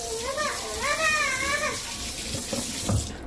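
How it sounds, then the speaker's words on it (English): Tomatillos, serrano chiles and fresh garlic are rinsed under a running tap, with a steady, close splash of water spilling into a sink while a voice is heard briefly over it. "So make sure you wash them just like this."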